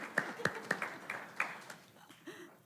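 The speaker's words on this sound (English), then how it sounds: "let's give them another round of applause" Scattered claps ring out at a board of education meeting, a modest round of applause with distinct hand claps spread over a couple of seconds, fading out at the end.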